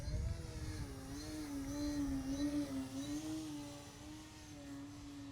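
A balsa 3D model plane flies overhead. Its motor gives a wavering whine that rises and falls as it maneuvers, moderately loud and with no voices.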